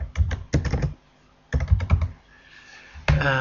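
Computer keyboard typing comes in three quick bursts of close, crisp key clicks separated by short silences.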